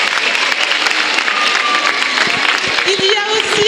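An audience at a foundation open day claps warmly for the director, dense steady applause with a voice talking over it.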